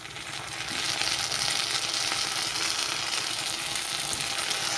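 Garlic and ginger paste fries in a pan for a Bengali banana flower (mocha) dish, giving a steady, close, moderately loud sizzle that swells after the first second and holds without a break.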